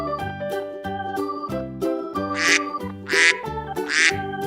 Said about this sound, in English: This is a white duck.